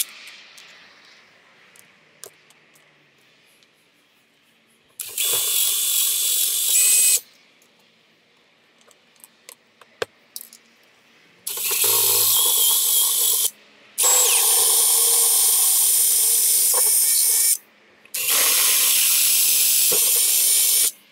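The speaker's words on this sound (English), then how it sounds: "Okay, so 15/64 drill holes are done." Power drill boring 15/64 holes into an Airstream trailer's metal skin: four sustained high whining runs, each a few seconds long, separated by quiet pauses, loud and close.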